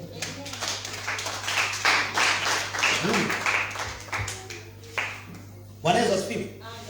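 A church congregation claps in scattered bursts, with uneven clapping and shouting voices rising and falling across the space.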